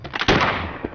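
A single action revolver fired in a lightning-fast draw: one sharp, loud, close shot that cuts in abruptly, then a brief ringing decay and a faint later knock.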